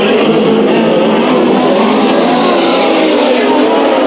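Race cars roar around the track at Bakersfield Speedway during a heat race, a loud, continuous engine drone with broadband road noise that holds steady throughout, with no voices.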